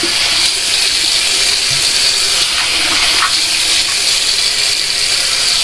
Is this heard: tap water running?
yes